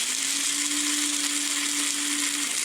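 An electric coffee grinder coarse-grinds coffee beans for a French press, a steady loud whir with a constant motor hum running unbroken for a few seconds before cutting off.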